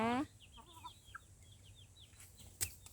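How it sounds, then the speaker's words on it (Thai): Chickens clucking in short repeated calls around a young animal playing in a farmyard, fairly close but soft, with a louder squawk at the start and light background noise. "มีการเตะไก่ด้วยนะคะ"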